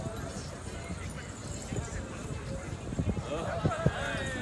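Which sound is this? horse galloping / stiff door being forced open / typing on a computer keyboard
horse galloping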